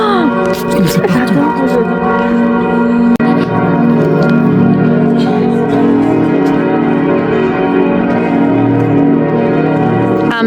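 Church bells ring steadily in the open air in Strasbourg, France, their sustained tones layered and ringing on throughout, with people talking nearby underneath.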